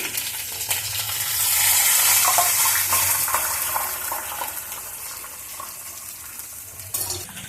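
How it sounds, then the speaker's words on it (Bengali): Heated water poured into a hot pan of cumin seeds and curry leaves, a sudden loud hissing sizzle that swells and then gradually settles into softer bubbling, close and without speech. "এবার গরম করে রাখা জল দিয়ে দিচ্ছি"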